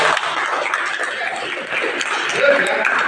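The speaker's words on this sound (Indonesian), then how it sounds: "beri tepuk tangan untuk teman kita" Classroom applause for a student, a dense, steady patter of many hands clapping at once with some chuckling mixed in, filling the room evenly for a few seconds.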